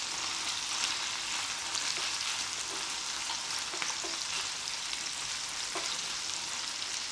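Ground beef browns in a hot pan with a constant soft sizzle and crackle, while a utensil scrapes and stirs the meat now and then, a quiet, close sound with no voices.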